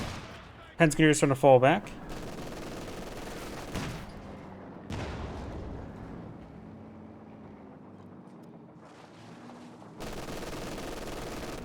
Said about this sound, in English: Smoke rounds firing away.